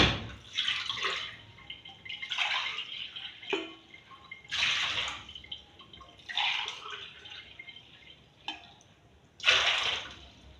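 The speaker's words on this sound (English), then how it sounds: "I'm going to measure 3 cups of water" Water is poured from a measuring cup into a pot, three cupfuls in all, heard as several separate splashing pours with pauses in between, fairly quiet.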